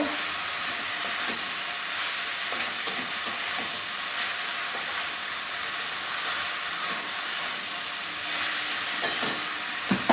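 Cabbage curry with jackfruit seeds frying in a pan and being stirred, a steady close sizzle with scattered scraping clicks from the stirring running unbroken throughout, no voice.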